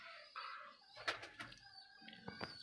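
Golden pigeons coo softly in a loft, a few short low calls scattered over a couple of seconds alongside light rustling and brief flutters.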